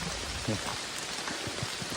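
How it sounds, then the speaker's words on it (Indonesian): Light drizzle falling in a forest in Cirebon, a soft, steady patter of drops with a few sharper taps nearby. "Hujan rintik-rintik."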